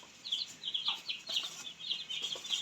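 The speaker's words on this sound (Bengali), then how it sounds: "আমাদের এখানে রয়েছে 7 পিস গলাশোলা হাইব্রিড মুরগি" Seven naked neck hybrid chickens clucking and chirping in a steady stream of short calls, fairly soft and close, with no talking.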